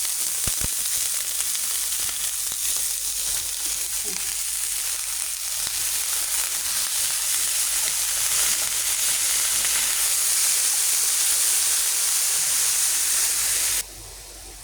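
Onion and green chili sizzle loudly in hot oil in a pan, with a dense continuous hiss broken by a few sharp stirring clanks early on, dropping in level near the end.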